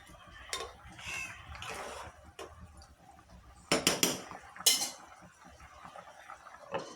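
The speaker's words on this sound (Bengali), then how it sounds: "এখন আমি এটাকে নেড়ে" A spoon scrapes and clinks against a metal cooking pot of beef curry, several sharp knocks clustered mid-way amid softer stirring rustles, fairly quiet and close in a home kitchen.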